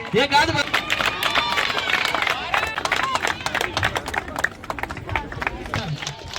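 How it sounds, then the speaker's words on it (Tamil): Crowd applause at an outdoor women's volleyball event held for a birthday celebration, with many hands clapping in a dense, fairly loud patter under a noisy babble of voices and shouts. "கைத்தட்டல் கொடுக்கலாமா?"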